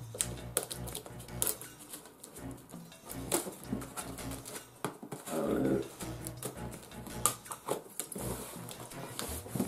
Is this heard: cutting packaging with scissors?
yes